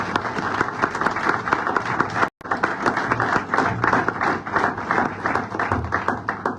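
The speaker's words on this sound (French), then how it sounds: "je voudrais qu'on l'applaudisse" An audience at a New Year's greetings event claps steadily, a dense sustained applause with a brief break partway through before resuming at full strength.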